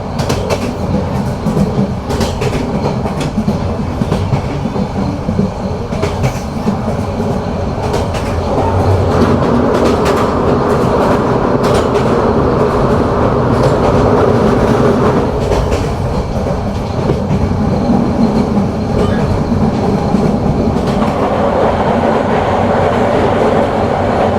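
Cox's Bazar Express train rolling onto a small railway bridge, heard from aboard: a loud, steady rumble with rapid clickety-clack of wheels, the tone deepening and growing heavier partway through as the carriages cross.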